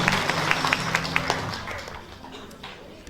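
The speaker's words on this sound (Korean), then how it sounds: "다시 한번 참 박수 부탁드리겠습니다." An audience at a 2015 Korean charity ceremony claps briefly while a voice speaks over it. The separate claps fade out after about a second and a half, leaving the room quieter.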